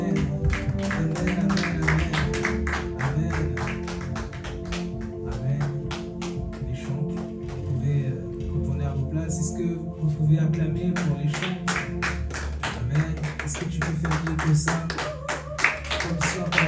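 A church congregation claps rhythmically in a fast, sustained beat over music and voices, the hand claps close and prominent throughout.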